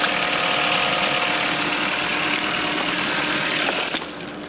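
A 1.8T Audi Quattro engine runs loud and close with a rough, steady rumble as the car is driven in, then the noise drops off sharply near the end.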